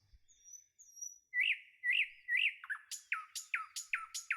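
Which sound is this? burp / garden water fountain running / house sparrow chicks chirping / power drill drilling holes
house sparrow chicks chirping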